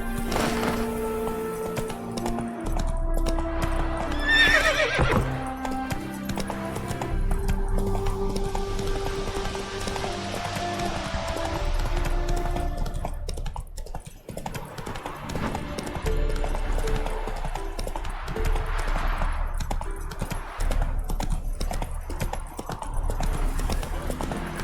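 A horse in The Witcher 3 gallops with steady clip-clop hoofbeats and gives a sharp neigh early on. Someone speaks briefly over it as the rhythmic hooves carry on.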